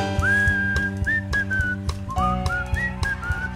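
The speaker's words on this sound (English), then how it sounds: "Whistle solo." A whistled melody plays as the solo in a lounge-style cover of a song, with clear sliding phrases carried over a steady band accompaniment.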